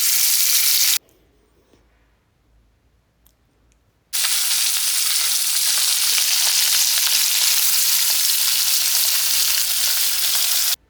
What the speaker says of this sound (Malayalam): ഇനിയിപ്പോൾ നമ്മൾ ഈ ഒരു ചട്ടിയിലാണ് മീൻ വറക്കുന്നത്